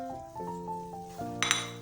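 Spoon stirring chicken and chopped capsicum in a metal pan on the stove, with ringing clinks of utensil on metal, a steady tonal hum and a brighter scrape near the end, close and alone.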